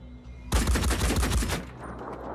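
Machine gun fire in the video game Phoenix Point: a loud, dense burst of rapid shots lasting about a second, followed by a fading rumble and faint ambience.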